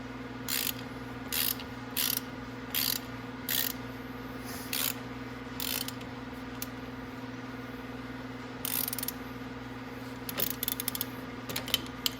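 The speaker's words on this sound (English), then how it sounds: "if I'm using a ratchet like this" A ratchet spins a bolt on a Venom 1500w E-Grizzly electric ATV, giving short bursts of rapid clicking pawl ticks, repeated over and over at close range against a steady low hum.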